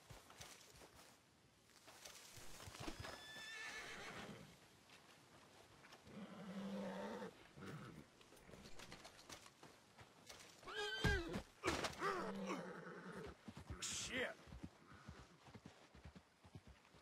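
A horse in Red Dead Redemption 2 gives a short whinny among soft hoof thuds and rustling game ambience, faint and somewhat distant, with no talking.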